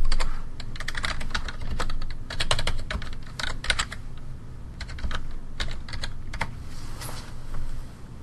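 Typing on a computer keyboard to enter a web address, heard as bursts of close, crisp key clicks in uneven runs with short pauses, over a low background hum.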